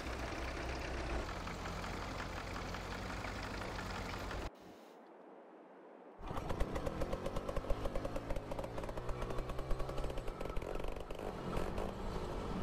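A tractor engine drives in Farming Simulator 22 while the vehicle struggles for grip at the edge of traction. Its dense, rumbling drone breaks off into near silence for about two seconds, then returns with a rapid, steady stuttering chug.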